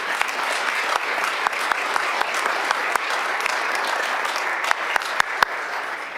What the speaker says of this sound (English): so give that a round of applause.